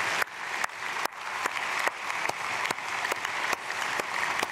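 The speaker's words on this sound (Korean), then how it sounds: "우리 1대 2대 교구 박수로 축복하겠습니다." A church congregation at an early-morning prayer service in Seoul claps together, a dense, even patter of many hands with a few sharp louder claps standing out, sustained and moderately close with no talking.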